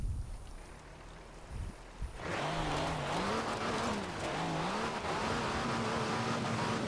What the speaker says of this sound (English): we're going to drive this across the ice and see what exactly it can do.